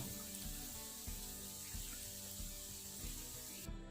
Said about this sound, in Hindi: इन्हें अच्छी तरह मिक्स कर लेंगे